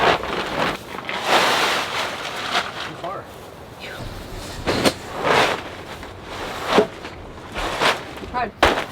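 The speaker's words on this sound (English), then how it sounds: "It's crazy windy right now." Strong outdoor wind buffets the microphone in broad gusting bursts at a chicken-brooding site on grass, with loud swells and lulls throughout and no clear talk.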